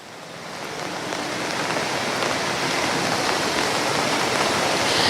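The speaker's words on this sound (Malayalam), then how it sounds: "ഇപ്പോഴും കോഴിക്കോട് നഗരത്തിലും മലയോര പ്രദേശത്തുമായി മഴ തുടരുകയാണ്" Heavy rain pouring over Kozhikode city, a dense, continuous hiss of water that swells slightly in the first seconds and then holds steady and loud, with no voices.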